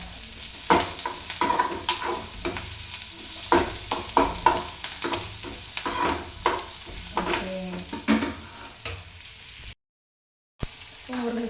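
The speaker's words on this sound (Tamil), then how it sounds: "முருங்கைக்காய் போட்டு வெங்காயத்துல கொஞ்சம் வதங்கும்" Drumstick pieces fry with onions in a pan for a drumstick poriyal, with a steady sizzle under repeated scraping and clattering strokes of a stirring spoon.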